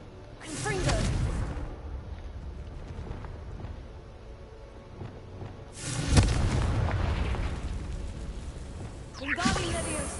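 Two heavy, booming fire-blast explosions from the Confringo spell in Hogwarts Legacy, each with a whooshing rush and rumble, followed by a sharper burst near the end.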